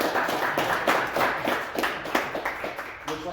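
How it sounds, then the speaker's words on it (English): A modest audience applauds at the close of a ballot-measure debate, a thin, uneven run of handclaps from a small crowd lasting a few seconds. "let's go ahead and give a round of applause"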